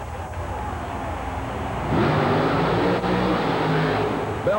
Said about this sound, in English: a nitrous oxide injected Jeep CJ funny car with Chevrolet power called Blue Max